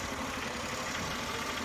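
A car engine runs steadily, a low, continuous idling hum at moderate distance with no speech over it.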